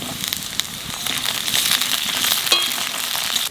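Potatoes and green chilies frying in a pan of oil, a steady hiss with soft crackles and faint stirring scrapes, close and continuous, with no talking.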